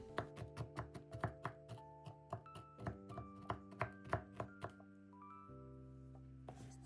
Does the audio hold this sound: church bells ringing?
no